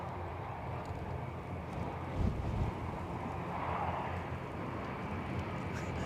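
Steady wind rushing across the microphone at an outdoor plane spotting spot in Edinburgh, Scotland, a continuous low roar with a brief louder gust partway through and no talk.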